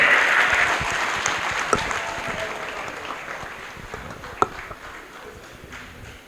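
Loud applause from an audience in a hall at a diamond leader celebration, a dense burst of clapping that gradually fades, with a couple of sharper claps standing out.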